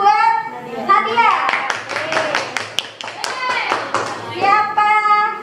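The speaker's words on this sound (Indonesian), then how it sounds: "Tepuk tangan buat Nadia." Children in a classroom give a short burst of rhythmic clapping for a classmate, close and lively, with kids' voices speaking before and after it.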